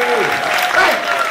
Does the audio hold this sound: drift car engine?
no